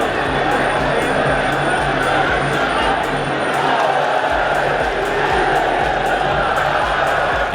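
A dense crowd roars steadily throughout a Rodtang Muay Thai fight, a broad continuous wash of cheering with faint rhythmic thumps beneath it.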